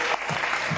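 Applause fills a parliament chamber, a steady dense clatter of many hands clapping at once, loud and continuous through the brief moment with no voices on top.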